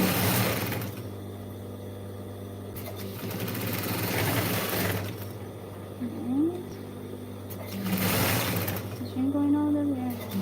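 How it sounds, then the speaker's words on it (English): Sewing machine stitching all the way around a denim jeans bag, running in several steady bursts with brief pauses between them, close by, and a voice briefly joining in. "I am stitching going all the way around."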